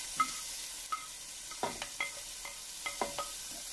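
Ginger sizzles in a pan while being stirred for ginataang santol, with soft frying hiss and a few distinct utensil scrapes and knocks against the pan, quiet and close, no voices.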